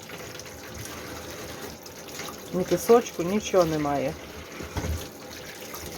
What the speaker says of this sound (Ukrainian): так під холодною водою промила